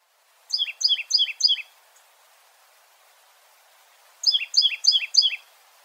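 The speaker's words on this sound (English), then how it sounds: "Titmouse." A tufted titmouse sings two bursts of four clear, rapid whistled notes, separated by a pause of about two seconds, close and alone against a quiet background.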